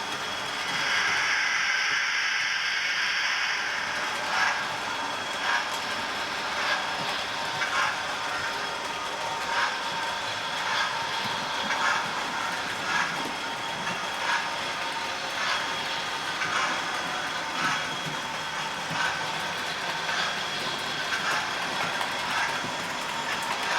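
A model Winston Churchill locomotive, Hornby R3300 retrofitted with a LokSound decoder, runs steadily with a light mechanical rattle and regular ticking clicks from wheels and gears. The sound is close and continuous, with no talking.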